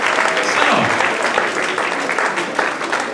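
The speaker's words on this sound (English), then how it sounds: "Give them all a great big round of applause, folks." A theater audience at a hypnosis show applauds the volunteers on stage, loud, full clapping that carries steadily throughout with a voice underneath.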